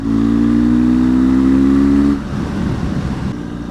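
A BMW R1200GS motorcycle engine pulls hard in fifth gear with a loud, steady droning tone for about two seconds, then drops into a rougher, lower rumble. No one speaks.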